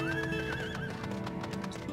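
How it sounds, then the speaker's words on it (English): A horse in the Final Fantasy XIV video game whinnies loudly. Steady clip-clop hoofbeats and layered game music play underneath, with no talking. "My horse."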